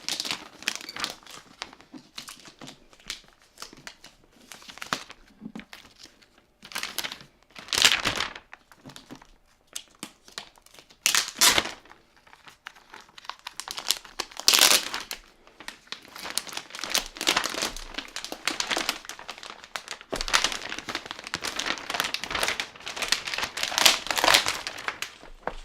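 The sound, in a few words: plastic wrap being removed from a Razer arcade stick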